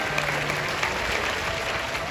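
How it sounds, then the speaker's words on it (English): Audience applause at a bird show in Bird Paradise, a large bird park in Singapore, a steady crowd clapping throughout with a faint voice underneath. "give them a round of applause"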